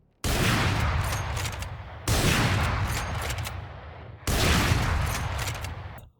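Gunfire from the video game Valorant: three loud, close bursts of sustained rapid shooting, each lasting about two seconds and separated by sudden cuts, with no talk.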